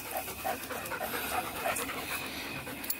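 Coon hunting hounds pant rapidly and steadily close by, a soft rhythmic huffing that continues for several seconds over faint outdoor background noise.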